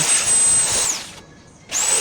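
A high-pitched rotary burr tool whines loudly as it opens a joint for bronze welding, cutting out briefly for about half a second before spinning back up.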